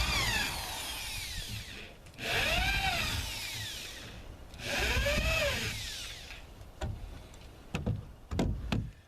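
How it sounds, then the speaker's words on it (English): A power drill boring pilot holes for screws into wooden bathroom wall framing, two sustained whining bursts that rise and fall in pitch, followed by sharp knocks and clatter, close and loud with no talking. "drilling some pilot holes in there"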